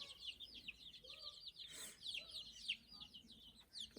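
Many chickens cluck and chirp together at once, a busy, overlapping chatter at moderate distance, fairly quiet overall.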